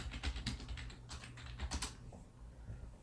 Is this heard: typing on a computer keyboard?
yes